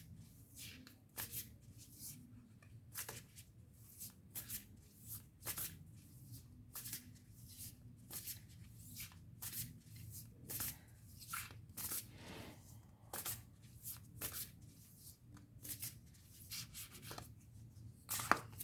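A Moonology oracle card deck is shuffled by hand in quiet, close, repeated bursts of riffling and card slaps at an irregular rhythm, with no talk.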